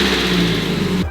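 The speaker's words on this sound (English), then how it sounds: "start it, listen to the motor turn over" A Mazda Miata engine running after a cold start, a steady close mid-pitched motor drone that holds for about a second and then cuts off abruptly.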